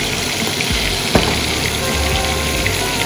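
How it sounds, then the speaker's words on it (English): Beef and mushrooms fry in a pan with a steady, close, dense sizzle and one brief clatter partway through. "So the beef's cooking well."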